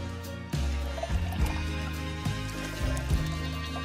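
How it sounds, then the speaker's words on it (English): Water poured into a can of limeade while mixing margaritas, a steady trickling fill with a few soft splashes, close by and under background music. "Next, add water."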